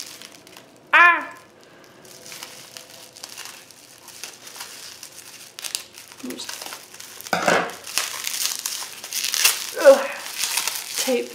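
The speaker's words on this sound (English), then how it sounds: "how do I get into this bubble wrap?" Tape and bubble wrap being pulled off an art package, crinkling and crumpling in bursts with a sharp tear near the start and louder rustling later, close to the microphone, with a person speaking at times.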